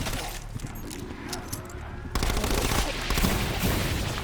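Rifle fire rattles in Black Ops 4, dense and continuous, growing louder partway through as the bursts close in, with a voice talking underneath.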